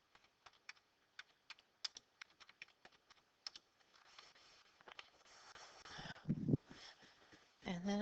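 Quiet, close clicking of keys on a computer keyboard, irregular taps spaced apart at first, then a faster flurry of typing, ending with a brief muffled voice or noise.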